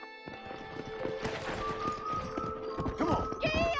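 Hoofbeats of a galloping horse in Red Dead Redemption, a steady, fairly close clip-clop rhythm with some background game noise and a short whinny near the end.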